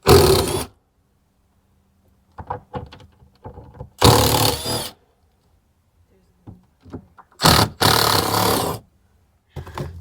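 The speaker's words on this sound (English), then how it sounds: "Should be using my fancy new ratchet that I bought." A ratchet with a 10 mm socket works bolts on a Jeep Wrangler TJ/LJ. Three separate bursts of rapid, close, loud clicking ratcheting are broken by quiet pauses with faint scattered knocks.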